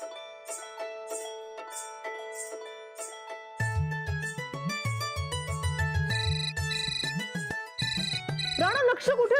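A phone ringtone plays on and on with no answer, a repeating bright melody that grows fuller and louder partway through, heard in a Marathi TV serial scene.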